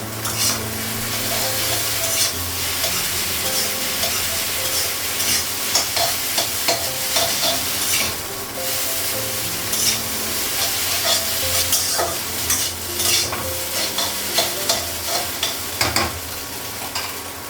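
Maggi instant noodles sizzle steadily in a hot pan on a gas stove while a utensil stirs and scrapes in repeated bursts, continuous and close with no talking.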